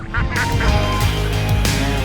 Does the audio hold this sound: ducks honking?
yes